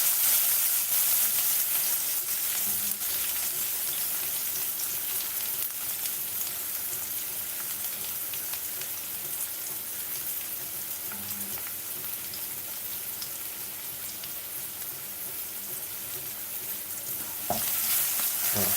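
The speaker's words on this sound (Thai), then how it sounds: "เดี๋ยวเราจะเอา อันนี้ เครื่อง กระเทียมกับ พริกมาผัด" Garlic and chilies stir-fried in hot oil for Thai-style red-fire morning glory, a steady close sizzle and crackle of frying with occasional stirring scrapes throughout, no talk.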